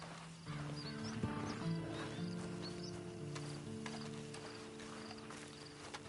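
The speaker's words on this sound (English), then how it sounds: "Then you better get on this horse." Horse hooves clop and the animal whinnies in Red Dead Redemption 2, with soft mechanical clicks and tack jingles over a low ambient bed, fairly quiet and close.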